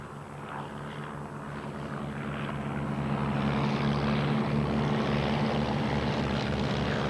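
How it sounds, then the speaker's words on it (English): A Porterfield propeller airplane comes in to land after barnstorming at a 1932 glider flight anniversary event, its engine drone steadily swelling and holding loud and close for several seconds with no talk. "the first plane, Porterfield, that's just putting down after that barnstorming"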